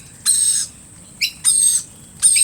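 Wild baby lorikeet in a garden with a mixed flock of Australian birds giving several short, shrill, high-pitched calls in brief bursts, fairly close and loud against a low background rumble.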